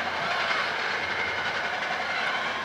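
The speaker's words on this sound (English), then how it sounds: "Charlie, we've just got two trains going by at the same time" Two trains pass at the same moment beside a high school girls' rugby match, a loud continuous rumble and rattle of rail cars close by, with no voices heard over it.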